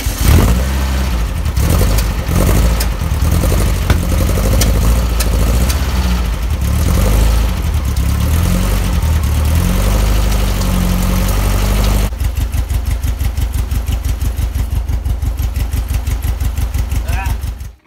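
Air-cooled VW Beetle engine running on test after an oil line change, a steady loud mechanical drone with a rhythmic low throb that turns into a sharper, evenly pulsing idle for the last few seconds.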